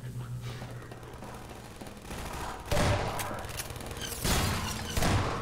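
Automated turrets fire in Half-Life 2, giving loud rapid bursts that break in sharply after a quieter stretch with a low hum, then surge again near the end, with no voices.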